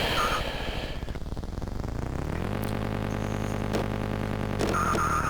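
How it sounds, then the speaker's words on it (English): Tiny cars race in the Micro Machines game on a Commodore Amiga and clear a jump. A continuous buzzy synthesized engine drone runs throughout, with pitch sweeps and brief chirpy effects near the start and end. "You could hear there they just got over this jump."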